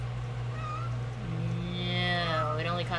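A cat meows, a drawn-out, wavering call that builds and rises near the end, heard close over a steady low hum.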